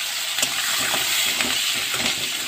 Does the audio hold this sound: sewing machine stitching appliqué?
no